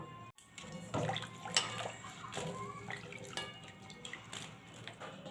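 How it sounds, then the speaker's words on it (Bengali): Diced potatoes are washed by hand in a bowl of water, with soft sloshing, dripping and light splashes coming close and fairly quiet, in short irregular bursts. "এবারে ধুয়ে পরিষ্কার করে নেব"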